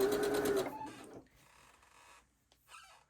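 A sewing machine stitches a quarter-inch seam on a quilt block in a short burst of rapid, whirring needle strokes, then stops, leaving faint handling sounds and quiet clicks.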